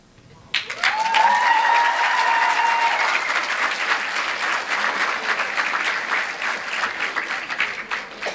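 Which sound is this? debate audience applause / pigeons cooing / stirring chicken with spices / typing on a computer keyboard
debate audience applause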